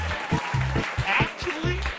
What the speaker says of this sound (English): Let's help with a big round of applause.